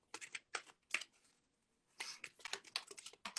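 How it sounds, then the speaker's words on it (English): A deck of playing cards is shuffled in quick riffling bursts, crisp close flutters separated by brief pauses, with no talking. "Let me shuffle the deck"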